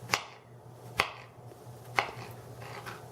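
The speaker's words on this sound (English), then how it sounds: "just chop up my mushrooms. Kind of dice them." A knife chops mushrooms into half-inch slices on a cutting board, three sharp, evenly spaced knocks about a second apart, close and clear against a low steady hum.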